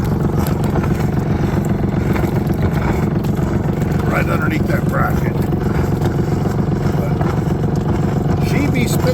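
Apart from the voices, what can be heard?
sailboat engine exhaust spitting water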